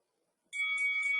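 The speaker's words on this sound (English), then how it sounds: "That's our 10-second bell." After a brief silence, a single bright electronic bell tone from a workout timer starts abruptly and rings steadily, sustained and clear.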